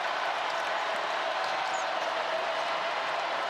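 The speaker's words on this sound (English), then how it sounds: "Crowd likes it." Arena crowd at a college men's basketball game between Georgia Tech and North Carolina, a steady broad wash of cheering and applause that holds loud and even throughout with no talk over it.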